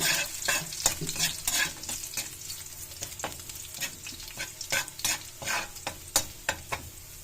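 Garlic frying in a hot wok, crackling sizzle broken up by repeated sharp scrapes and stirs of a utensil against the pan, close and fairly quiet, with no voices.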